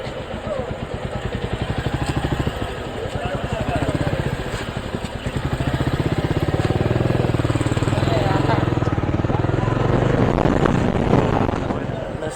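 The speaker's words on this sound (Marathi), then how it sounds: "समोर एक त्यांनी एक मोटरसायकल थांबवली." Motorcycle engine running close by at a crowded spot near the base of Raigad fort, a loud, steady rapid chugging that swells slightly, with people talking over it.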